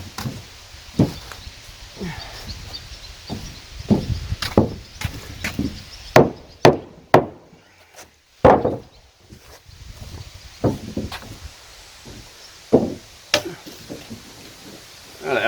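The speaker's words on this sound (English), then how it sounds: "I just nail it through." A hammer drives nails through wooden headers on a modern cabin being built in a forest, landing as sharp, loud, irregular strikes in uneven bursts, with short pauses and faint rustling between them.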